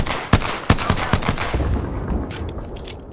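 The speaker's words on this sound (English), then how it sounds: "I hear a gunfire in this area over where he's at." Sharp bursts of Apex Legends gunfire, several quick shots in an uneven rhythm, then fading into a softer rumble and scattered distant pops.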